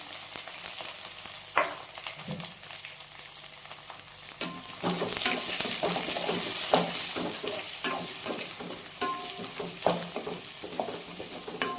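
Onions and curry leaves fry in a pan for a taro (chamagadda) pulusu, giving a steady close sizzle broken by sharp spatula scrapes and taps, with the hiss swelling louder partway through.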